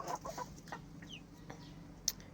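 Backyard chickens and a rooster cluck softly in a few short, scattered bursts, faint and somewhat distant, with a brief sharper call near the end.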